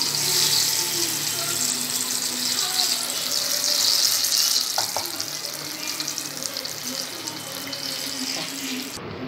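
Brinjal bajji batter frying in hot oil, a dense continuous hiss and sizzle that stays loud and close throughout, with faint background sounds beneath.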